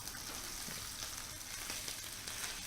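A shelled lobster tail searing in a hot pan, giving a steady, even sizzle and crackle with a few soft stirring ticks, close up and moderately quiet, with no voices.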